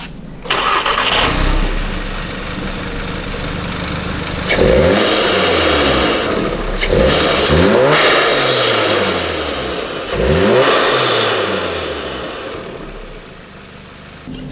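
An Audi A3/S3 (Mk7) engine with an APR open carbon fibre intake fires up and settles into a steady idle, then revs hard three times in rising and falling bursts, loud and close, with no voices.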